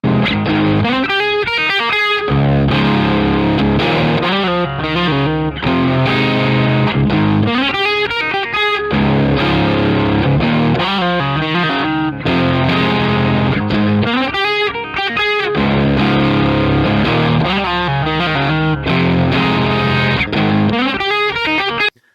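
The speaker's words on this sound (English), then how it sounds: "I want to start with the Marshall. This is the first riff." A heavily distorted electric guitar riff repeats in driving chugging phrases with sustained chords, loud and continuous, through the crunchy tone of a Marshall tube amp with EL34 valves.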